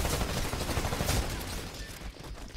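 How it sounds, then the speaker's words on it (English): Gunfire from an R97 compact SMG crackles in a Titanfall-style match, blending with other weapons into a dense, continuous fusillade that stays loud throughout and then thins slightly toward the end. "SYN3RGY just gets cleaned up by the R97 compact SMG as well."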